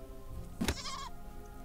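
A goat in the video game Deponia Doomsday lets out a single sharp bleat when struck, short and distinct after a quick hit, over a quiet background.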